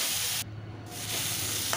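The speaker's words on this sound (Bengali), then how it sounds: "নুন, জিরে দিয়ে ভালো করে এটাকে ভেজে নেব" Tomatoes fry with salt and cumin in a pan, giving a steady close sizzle that dips briefly and then returns, with no talking.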